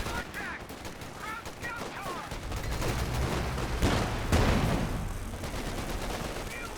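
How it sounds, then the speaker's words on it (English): Rapid bursts of MG34 machine-gun fire with incendiary rounds in the World War II strategy game Company of Heroes 2, mixed with other gunfire and explosions, loud and continuous, with a commentator talking over it. "Also got incendiary rounds from the MG34 there."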